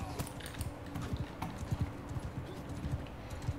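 Hooves clop in a quick, steady galloping rhythm in the medieval combat game Bannerlord, close and fairly prominent over a faint background, with no speech.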